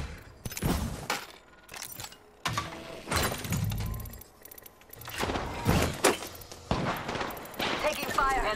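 Apex Legends gunfire crackles in dense, repeated bursts mixed with thuds, impacts and other game effects, loud and close throughout, with in-game voice lines cutting in now and then.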